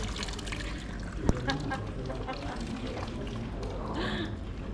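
Water flowing from a public fountain in Venice, a soft steady pour and trickle heard up close under outdoor background noise, with people talking over it.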